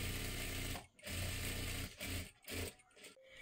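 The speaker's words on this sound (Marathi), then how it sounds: "आता इथे बरोबर आपल्याला शिलाई करून घ्यायची." Electric sewing machine stitching a princess blouse, a fast steady whir of the needle in short runs separated by brief pauses, close and clear with no talking.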